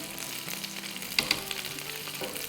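Chicken pieces sizzle steadily in hot oil in a pan, a continuous crackling fry with a couple of sharper pops and light stirring clatter, close and alone without talk.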